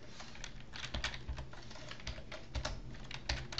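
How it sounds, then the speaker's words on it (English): Steady typing on a computer keyboard while entering game code, a dense run of close key clicks with a few heavier thumps, no voice. "let's type in the keyboard code"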